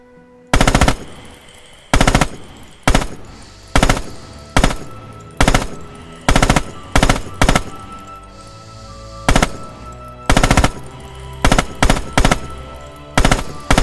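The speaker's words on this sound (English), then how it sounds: "Open fire downrange, small bursts." Short bursts of machine gun fire from a weapon in the Rising Storm video game, loud and close, with around a dozen sharp bursts separated by brief pauses.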